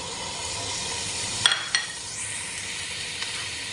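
Bagoong shrimp paste goes into a pan of squash cooking for ginataang kalabasa, giving a constant close sizzle with a couple of sharp scraping clicks midway as it is stirred in.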